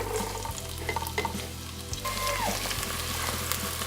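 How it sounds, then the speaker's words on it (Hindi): Chopped garlic and onion sizzle steadily in a pan for mutton pulao, a soft, constant crackle with a low hum and a few faint clinks, and nobody speaking. "तो ये गार्लिक और ऑनियन को मैंने कट करके रखा हुआ है और इनको मैं फ्राई कर लूँगी पैन में डाल के"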